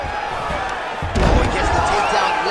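A takedown slam in the UFC 5 video game lands as a heavy thud over a crowd roar, with commentators talking throughout.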